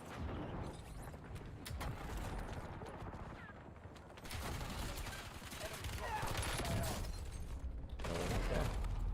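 Dense gunfire from a Call of Duty Warzone Resurgence match rattles throughout, layered bursts and single shots mixed with game noise and a talking voice over the top.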